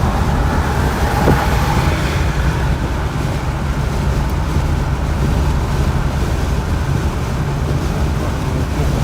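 A 1949 Cadillac accelerates and cruises at 60 mph, a dense, steady roar of engine, road and wind noise that fills the cabin evenly throughout with no voices.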